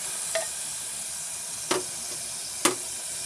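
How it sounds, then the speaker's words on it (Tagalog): Tomatoes sautéing in a pan for a Filipino ginisang patola with sardines: a quiet, steady sizzle broken by three short, sharp spatters spaced about a second apart, with no talking. "Ayan guys, gisang-gisa na yung kamatis."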